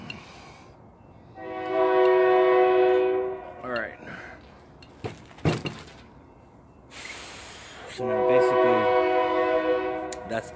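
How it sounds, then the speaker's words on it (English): A train sounds its horn in two long, sustained blasts, with scattered clunks and knocks from the passing rail cars in between. "Everybody loves when they hear the train."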